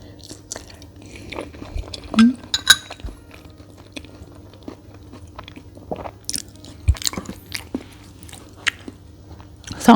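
Durian with coconut sticky rice being eaten up close, with irregular wet bites, chewing and soft crunches, and occasional light clinks of utensils.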